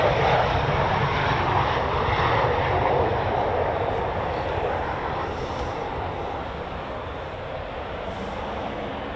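Eurofighter Typhoon FGR4 fighter jet doing a touch and go at RAF Coningsby, a loud continuous engine roar that swells early and eases slightly toward the end, heard alone.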